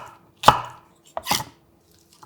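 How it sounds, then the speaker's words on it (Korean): A knife cuts through cucumber pieces on a cutting board in two crisp, separate chops, close and clear, with quiet pauses between and no talk. "먼저 오이 1개를 길게 4등분해주고 2cm 길이 정도로 잘라주세요."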